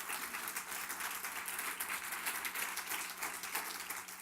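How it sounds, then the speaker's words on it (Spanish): Church congregation at a Spanish-language sermon gives sustained applause, a continuous, even patter of many hands at moderate volume over a low steady hum. "Denle un aplauso al Señor, por favor."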